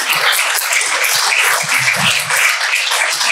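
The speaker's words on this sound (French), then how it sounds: "je pense qu'on peut vous applaudir." Steady applause from a crowd, dense continuous clapping filling the whole stretch at an even, fairly loud level.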